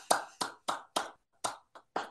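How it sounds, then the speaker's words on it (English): Seven sharp, separate hand claps ring out close and fairly loud in a steady, spaced rhythm, with brief silences between them, as a small audience applauds. "I applaud all of you"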